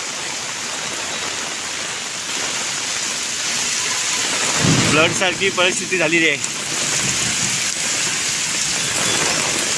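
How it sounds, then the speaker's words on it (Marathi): Heavy rain in Mumbai near Marine Drive hisses loudly and steadily throughout, while someone speaks briefly over it near the middle. "पाऊस जो जोरात चालू आहे कंटिन्यूली चालू आहे मुंबईमध्ये"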